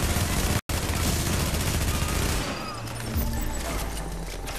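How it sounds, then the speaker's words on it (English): Shotgun fire in the video game The Division, a loud, dense burst of blasts and rattling gunfire that fills the scene, briefly cut off, then continuing more thinly. "I'm getting sniped the shit out of me with a shotgun."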